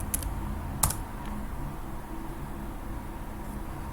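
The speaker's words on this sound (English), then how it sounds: "Type in my password." Password typed on a computer keyboard, a few soft, scattered key taps, one clearer press near the start, over a steady background hiss.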